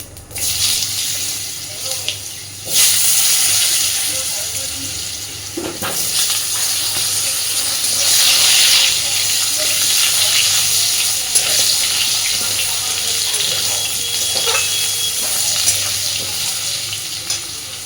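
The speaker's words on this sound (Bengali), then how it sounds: "ওই তেলে এবার আমি ফোড়নে দিয়ে দিচ্ছি একটু জিরে আর দিচ্ছি আলুগুলোকে খুব সুন্দর করে এবার ভেজে নেব।" Cumin seeds and potatoes dropped into hot oil left from frying fish, a loud close sizzle that surges after a brief pause, with rustling, stirring and clinking over the steady frying.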